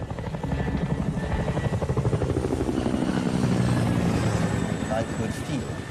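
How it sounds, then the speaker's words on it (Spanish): A large Chinook HC2 helicopter thumps low overhead with a rapid, pulsing rotor beat, loud and close, swelling then easing slightly; a voice speaks underneath. "En su embarcación, Mark Holbrook oyó el sonido de un enorme helicóptero a baja altitud."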